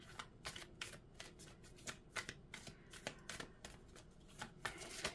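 Oracle cards shuffled by hand, a rapid run of soft, close riffling flutters and slaps repeating irregularly, quiet and without talk.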